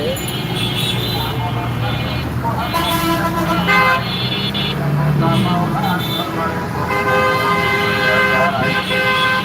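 Morning traffic jam on a city street in Bangladesh, with vehicle horns tooting repeatedly over a constant roar of engines and road noise, loud and close, while someone talks throughout.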